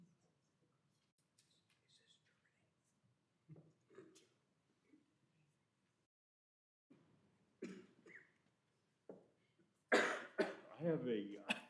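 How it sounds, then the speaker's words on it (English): A man coughs in a quiet city council chamber: scattered soft coughs and throat noises come first, then a sharper cluster of coughs and a loud final burst close to the microphone. "I have a cough, but it's not contagious"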